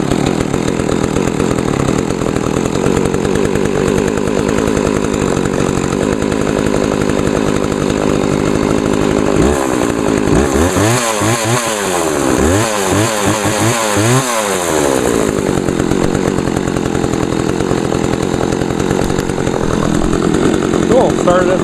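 McCulloch Eager Beaver chainsaw from 2014 running loud and close after a cold start, a steady buzzing two-stroke drone that dips and revs up and down in several quick surges midway, with a voice heard beneath it.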